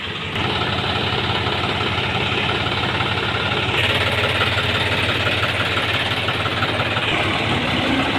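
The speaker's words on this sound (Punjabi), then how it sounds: "ਢਿੱਲੋ ਸਾਹਿਬ ਜਿਹੜੇ ਅੱਜ ਆਪਣੇ 4 ਟਰੈਕਟਰ ਲੱਗੇ ਆ" A tractor engine idles close by with a loud, rhythmic chugging knock that stays steady and unbroken from start to finish.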